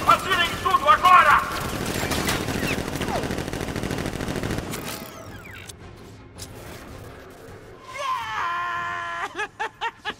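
Rapid bursts of gunfire and explosive effects from Batman: Arkham Knight, mixed with shouting voices and dramatic sound effects, then sharp repeated shots near the end.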